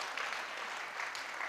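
An audience applauding at a Hindi poetry gathering, a steady wash of many hands clapping at once, fairly distant and even, with no voices standing out.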